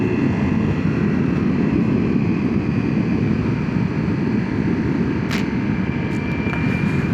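A Ducati Multistrada motorcycle is ridden on an Alpine road in the Dolomites. Its engine makes a steady, loud drone mixed with rushing wind, and there is no talk.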